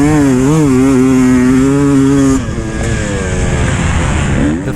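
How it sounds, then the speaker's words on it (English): A 300 TPI two-stroke enduro motorcycle races on a beach course, its engine screaming loud and close with rising and falling revs, then dropping to a rougher, lower drone as the rider shifts. "so I'm riding the 300 TPI enduro bike"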